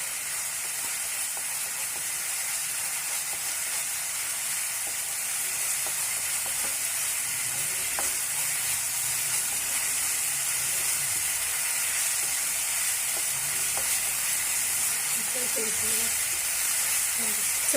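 Spice paste sizzling steadily in hot oil in a pan, being stirred for a spicy orange-flavoured bhetki fish sauce, with a constant bright hiss and a few faint scrapes and clinks.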